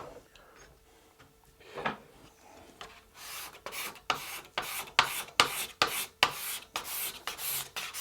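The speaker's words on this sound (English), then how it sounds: "you could also use a scraper to remove the sticker residue" A scraper works sticker residue off a wood guitar fretboard, starting with a few faint scratches and then building into a run of loud, rhythmic rasping strokes close by.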